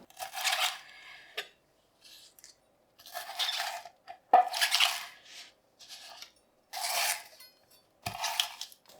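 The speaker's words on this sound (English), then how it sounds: "Give those leaves a good wash." Napa cabbage leaves being washed for kimchi give off intermittent splashing and trickling water bursts with light handling clatter, close and fairly clear, no talking.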